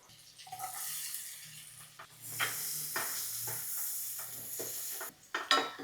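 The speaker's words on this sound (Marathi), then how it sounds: "आता कांदा 2 मिनिटं परतूया." Onion sautéing in a mix of butter and oil, a steady bright sizzle broken by stirring scrapes and clinks, fairly close and without talk.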